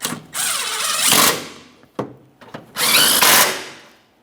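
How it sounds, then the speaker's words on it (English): Power tool driving and snugging two 13mm mounting bolts under the rear axle of a 2007-2017 Jeep Patriot 2.4L, two loud close bursts of whirring with a brief clack between them. "We'll just start in each of our two 13mm mounting bolts and snug those up."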